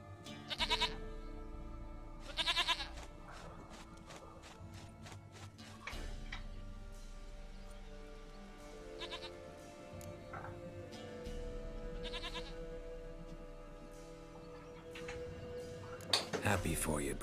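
Goat bleating in The Witcher 3: Wild Hunt, several short wavering bleats spaced apart over a steady ambient game background, with a speaking voice present in the scene.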